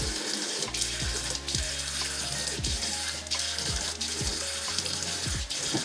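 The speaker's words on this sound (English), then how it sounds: "we're gonna wash our face with some lukewarm water." A bathroom tap runs lukewarm water into a sink while a face is being washed, giving a continuous close rush broken by repeated splashes about every second.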